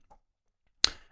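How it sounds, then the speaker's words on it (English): A single sharp tongue click made by a person, loud and close, standing alone after near silence, with a short decaying tail and only a faint murmur earlier. "I click my tongue like I just did"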